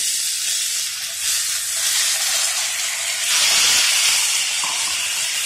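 Bitter gourd pieces fry in hot oil with a loud, steady hiss and sizzle that swells slightly midway.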